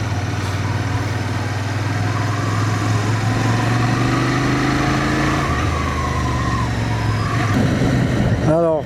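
A Royal Enfield-style 650 Interceptor motorcycle engine running, a steady low throbbing drone that rises slightly in pitch and then drops, loud and close throughout.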